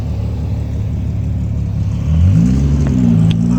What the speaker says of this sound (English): we'll get the car warmed up, hit the track.